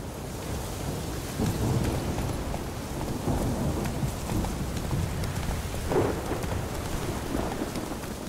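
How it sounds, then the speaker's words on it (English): A heavy thunderstorm in the video game The Witcher 3: Wild Hunt pours dense, constant rain with deep thunder rumbling underneath and swelling near the end, loud and enveloping with no voices. "This storm does seem pretty nasty."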